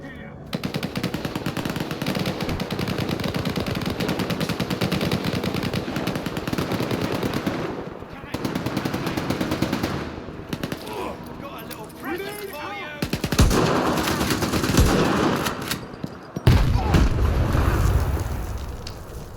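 Sustained rapid machine-gun bursts rattle through a firefight in the video game S.T.A.L.K.E.R. 2, with short gaps, a few heavy booms near the end and occasional talk underneath.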